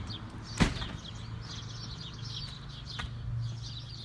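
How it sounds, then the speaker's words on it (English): Small birds chirping outside a window at a property with a shop, with light, scattered tweets over a steady low hum and one brief nearby thump, fairly faint. "We love watching the birds."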